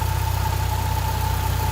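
A Subaru BRZ / Toyota GT86 engine idles while warming up, a steady close, even pulsing rumble with a faint constant whine above it, heard alone.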